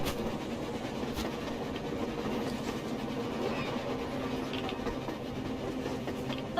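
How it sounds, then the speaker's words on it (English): A train rolling across the surface in the video game Metro Exodus, a steady low rumble and clatter lasting several seconds at moderate distance, with no talk over it. "A train! A damn train on the surface!"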